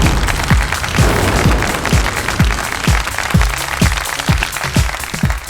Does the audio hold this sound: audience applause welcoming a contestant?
yes